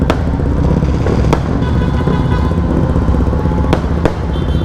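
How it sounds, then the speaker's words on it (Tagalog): Fireworks go off at the start of a group motorcycle ride on the Kalayaan route in Digos, Davao del Sur, with a few sharp bangs cutting through loud, continuous engine and crowd rumble. "So with fireworks guys."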